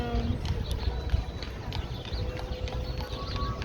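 Horse hooves clip-clop steadily on a New York City street as a horse carriage passes, the hoof beats set in a dense, continuous wash of traffic and city noise.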